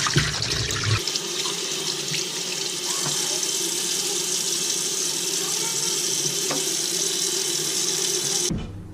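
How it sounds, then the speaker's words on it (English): Tap water runs steadily into a sink while rabbit meat is rinsed, a loud continuous splashing hiss with faint clinks, cutting off abruptly near the end. "water dumped out, and you rinse the rabbit off"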